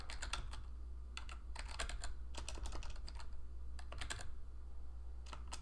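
Quiet typing on a computer keyboard: irregular bursts of soft key clicks with short pauses between, close and alone over a low steady hum.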